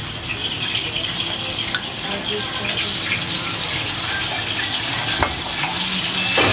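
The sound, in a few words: cooking oil heating and sizzling in a pot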